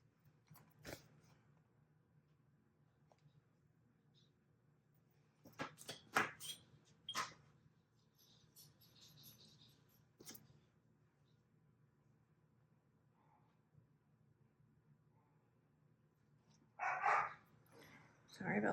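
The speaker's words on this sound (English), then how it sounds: "Sorry about the dogs." Dogs bark indoors in a series of sharp, scattered barks, some in quick bursts, with a louder flurry near the end, over quiet crafting sounds and soft talk.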